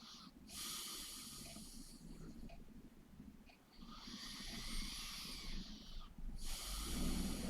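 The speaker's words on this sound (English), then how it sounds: "We're going to take 5 deep breaths here if that feels good for you today." Slow, deep breaths taken during a face yoga routine, long airy inhales and exhales in a repeating rhythm, close and fairly quiet, with no talking.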